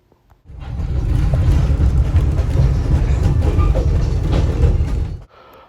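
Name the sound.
Maine two-foot narrow gauge train running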